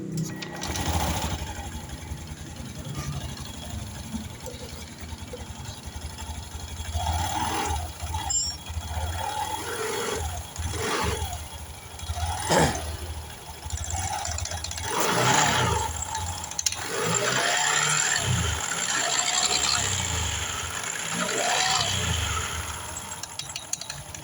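An automatic scooter engine running after a drive pulley bearing replacement, a steady buzzing idle with revving swells and rattly mechanical noise, close and fairly loud throughout.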